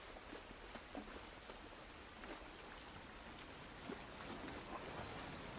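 Outdoor rain in the game The Last of Us Part I, a faint, even patter of drops with scattered light ticks, quiet and continuous with no talk.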